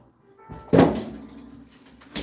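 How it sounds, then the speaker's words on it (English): A fridge door thuds open nearby, followed by a quieter rustle, then shuts again with a second thump about a second and a half later. "hear my fridge opening and closing"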